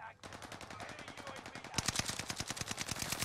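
Fennec SMG fire in Call of Duty: Warzone on Rebirth Island, with long rapid-fire bursts of sharp, dense shots that grow louder partway through, and game sound under them.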